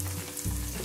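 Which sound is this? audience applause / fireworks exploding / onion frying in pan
onion frying in pan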